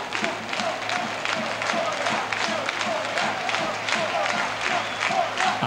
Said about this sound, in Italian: Applausi per lui, al 37esimo lascia il campo.